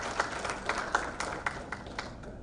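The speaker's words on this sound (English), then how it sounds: "A big round of applause." An audience at a partners' business meet gives a short, faint round of applause, a patter of scattered claps at a distance.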